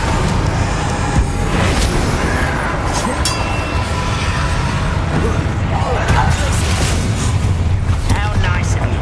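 A Confringo fire spell explodes in Hogwarts Legacy amid a loud, dense combat mix of low booms, rumbling impacts and clattering effects, with a voice speaking over the steady din.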